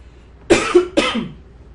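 Two sharp, close coughs in quick succession, loud and abrupt against a quiet background.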